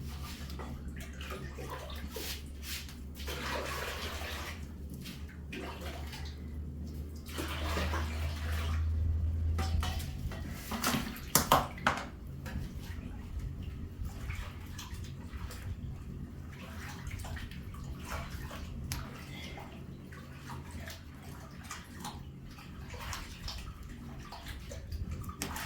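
Skinned maize being washed by hand in a basin of water, with soft sloshing, splashing and grainy rubbing against the container throughout, a louder swirl midway, faint and close with no talk.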